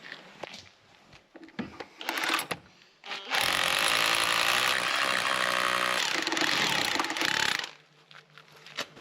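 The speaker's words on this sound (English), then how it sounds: "These 7-inch bolts screwed right into the concrete in 5 different points." A power tool drives long 7-inch bolts into a concrete wall, with a loud, continuous whirring grind lasting several seconds, framed by brief clanks and handling noises before and after.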